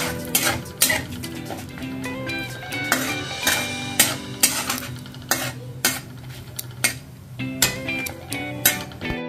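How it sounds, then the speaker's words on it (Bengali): Whole spices, a bay leaf, cumin, cloves, cardamom and cinnamon, fry in a pan while a metal utensil clinks and scrapes against it in irregular, sharp knocks over a soft sizzle. "এবার এটা ফ্রাই করে নিচ্ছি।"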